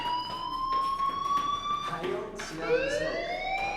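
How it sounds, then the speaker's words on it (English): A school fire alarm sounds in the video game Life is Strange, a steady electronic tone that holds for about two seconds and then shifts to a rising sweep, fairly loud and continuous with a voice talking over it. "Hey, do you hear that fire alarm?"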